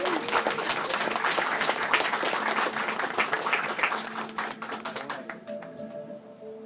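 Live audience applause at a comedy hypnosis show, a dense burst of many hands clapping that holds steady, then thins and fades toward the end as a faint tone rises underneath.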